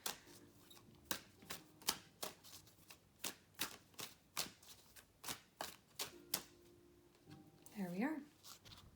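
Oracle cards shuffled by hand in a quiet room, a steady run of about fourteen crisp riffling bursts, close and clear, followed by a brief whooshing slide near the end with no talking.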